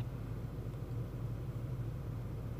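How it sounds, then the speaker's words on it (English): Car engine idling with the air conditioner running, heard from inside the cabin as a steady low rumble and hum, constant and moderately quiet, with no talking. "I'm sitting in my car with the air conditioner on"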